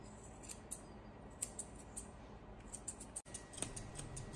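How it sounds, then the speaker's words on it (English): Scissors snip at a miniature poodle puppy's ears in a series of quick, close, crisp clicks, irregularly spaced, with no talking. "The ears are lightly trimmed at the bottom"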